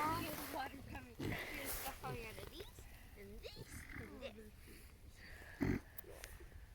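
A pig on a farm makes soft little grunts while settling down to sleep, heard faintly beneath a person talking nearby.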